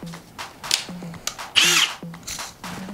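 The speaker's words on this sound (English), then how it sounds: "I'm just gonna drill a little hole in the center" A power drill whirs in short bursts, with one longer, louder high-pitched spin near the middle, close by and without talk.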